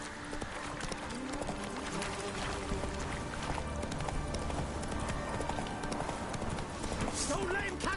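Roach the horse gallops in The Witcher 3, a steady run of hoofbeats clip-clopping beneath a dense game soundtrack, with a voice speaking over the action.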